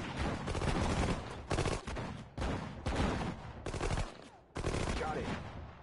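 War video game battle with loud, close bursts of rapid automatic gunfire in repeated volleys separated by brief gaps, dense and continuous within each burst.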